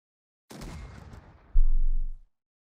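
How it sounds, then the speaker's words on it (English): Suppressive gunfire in the strategy game Unity of Command II: a burst of rattling shots opens the clip, then a louder, deeper boom of fire rolls out and fades, with no talk over it. "First thing I'm going to do right now is use some suppressive fire."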